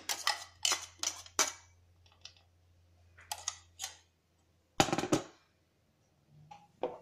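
A spoon clinks and scrapes against a bowl while grape paste is mixed into homemade fruit jam, in short irregular bursts separated by quiet pauses.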